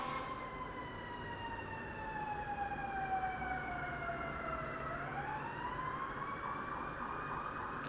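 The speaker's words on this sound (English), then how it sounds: "Sounds like there's a cop car and a fire truck." Distant sirens from a police car and a fire truck wail in slow rising and falling sweeps over a low background rumble, faint and steady throughout.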